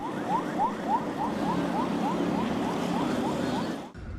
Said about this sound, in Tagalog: binasag ang katahimikan ng malakas na tunog ng sirena mula sa CCG vessel 5303